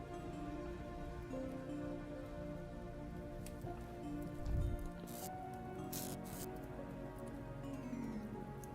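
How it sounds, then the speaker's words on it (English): Rain falls steadily in the game Vintage Story, a soft, continuous patter of drops on the ground with occasional louder splashes and clicks, faint and even throughout. "it's raining, so I shouldn't have to water everything"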